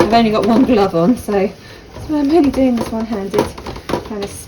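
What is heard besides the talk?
No everyday noises stand out.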